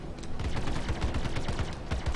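Size 3 cannons on a Super Hornet fighter in the Star Citizen space combat game, firing a rapid, steady stream of punchy low thuds for about two seconds with no talking.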